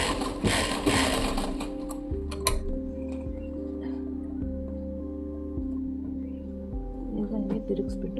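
A sewing machine stitches a pocket onto a child's denim jeans, humming and whirring steadily and loudly throughout with faint mechanical ticking, while a voice speaks over it.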